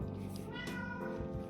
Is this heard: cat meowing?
yes